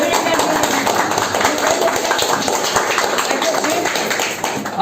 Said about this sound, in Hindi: पहले खुद के लिए जोरदार ताली दीजिए।